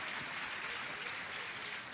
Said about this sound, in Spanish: un aplauso para las invitadas especiales de hoy.